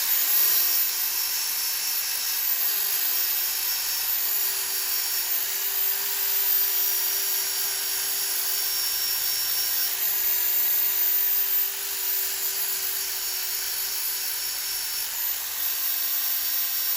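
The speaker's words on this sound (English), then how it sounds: "because I've got my drill here, bit of 180 paper" A power drill spins 180-grit sandpaper against a live-edge piece of turned wood, giving a steady high-pitched whine with an even droning hum held loud and continuous for the whole stretch, no talking.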